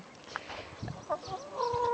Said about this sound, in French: l'histoire de la petite poule peureuse